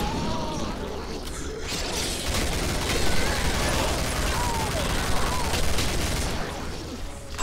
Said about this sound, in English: I just spam bullets.